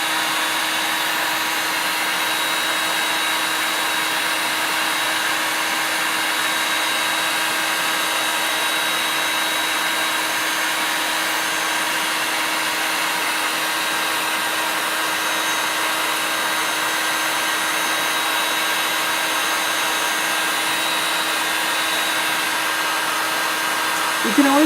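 Constant loud whirring roar of a hot air tool blowing across chalk-painted wood to char it, steady and unbroken at close range throughout.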